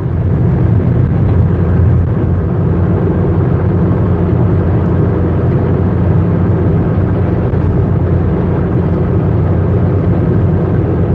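Steady low rumble of a car cruising on a road trip, engine and road noise heard from inside the cabin, constant and fairly loud with no voices.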